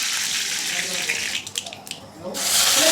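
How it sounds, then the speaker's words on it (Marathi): A loud, hissing sizzle of curry leaves hitting hot oil with cumin for a dal tempering, dipping briefly in the middle, then surging back into a strong steady fry. "आता त्यामध्ये आपण कढीपत्त्याची फोडणी देऊया."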